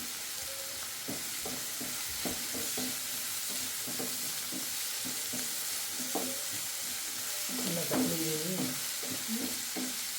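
Onions fry in a pan for a fish curry, with a steady broadband sizzle running throughout, close up and alone, broken by occasional scrapes and clinks of stirring.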